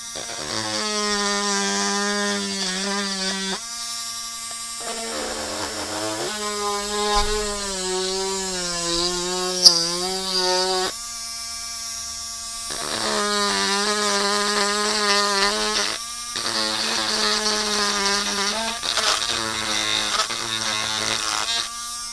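A Topshak TS-MG1 cordless mini rotary grinder with an inserted bit whirs in a high, buzzing whine, starting and stopping in several bursts with its pitch rising and falling as it spins up and slows under load, close and without talk.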